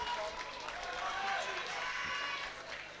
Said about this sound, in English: Big round of applause, please, for both fighters.